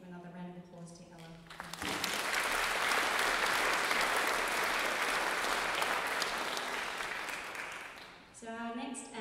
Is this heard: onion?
no